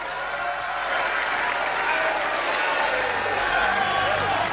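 Applause from an audience at a political declaration event for Prabowo Subianto; dense, sustained clapping fills the hall steadily for several seconds with a faint crowd murmur underneath.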